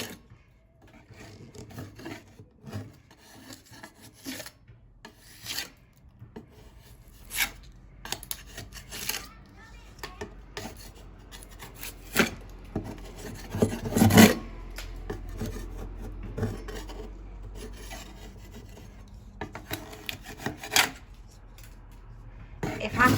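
Irregular scraping and rasping strokes of a hand scraper lifting old layered paint from a bathroom wall in an old shack renovation, close and uneven in rhythm, with occasional louder scrapes and quiet gaps.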